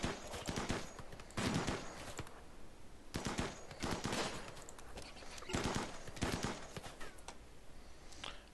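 Gunfire from colonists in the RimWorld video game: rapid bursts of shots come in clusters separated by short pauses, dense crackling volleys that are moderately loud and fairly close, with no talking.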